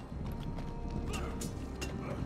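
A horse in a Game of Thrones video game, with steady clip-clop hoofbeats and a neigh close up against a busy game backdrop, lasting about two seconds.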